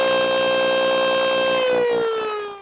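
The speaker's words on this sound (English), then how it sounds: "Orting has only one siren, but police want to make sure everyone will be able to hear it." A civil defense siren sounds during a volcano drill in Orting, near Mount Rainier, as one loud, steady wailing tone that slowly drops in pitch and fades away at the end.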